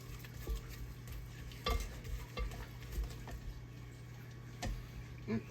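A spatula scrapes sugar cookie dough with vanilla down the sides of a mixing bowl, quiet close scrapes and soft knocks spread over a low room hum.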